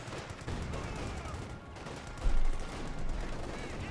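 Suppressive fire in Company of Heroes 2, a steady dense rattle of game gunfire under battle noise, with one heavier burst partway through.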